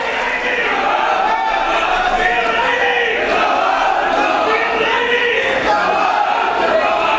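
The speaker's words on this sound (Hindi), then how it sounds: "जोरदार तालियों से इस्तकबाल कीजिएगा" Applause at a district-level Pasmanda Muslim community gathering in Sultanpur, steady and dense for the whole span, with a loud crowd roar mixed in.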